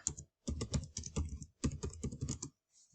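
Keys clatter on a computer keyboard as a short search is typed, two quick bursts of close, crisp clicking with a brief pause between.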